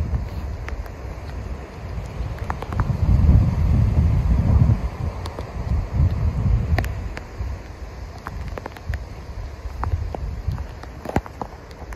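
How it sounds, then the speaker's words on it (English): Gusty wind ahead of Cyclone Jasper in Mossman rumbles against the microphone in uneven surges, strongest early then easing, with faint scattered clicks and no talk. "it's more gusty now than persistent wind."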